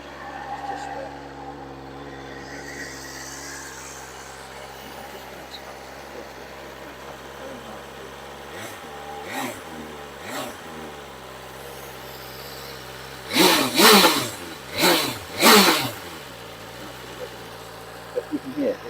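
A BMW M1000XR motorcycle engine idles on a cold start, a steady hum throughout, then a few quick revs surge and fall back near the end.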